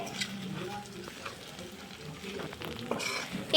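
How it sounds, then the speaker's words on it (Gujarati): Flattened rice (poha) is stirred into vegetables frying in a pan, producing a soft sizzle with brief scraping and stirring sounds over a few seconds, and a voice talks faintly alongside. "હવે આપણે પૌવા નાખી દઈશું આની અંદર ને બધું આપણે મિક્સ કરી દઈશું"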